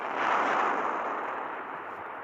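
A planet's core blows apart in the video game Solar Smash, a loud rolling explosive roar that swells quickly and then slowly fades over a couple of seconds.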